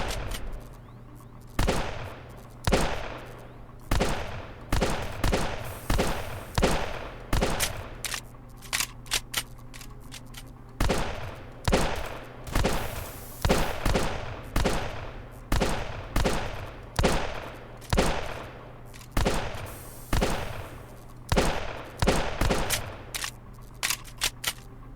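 Gunfire in The High Tower, loud bursts of rapid shots in quick clusters with short gaps, repeating through the whole stretch.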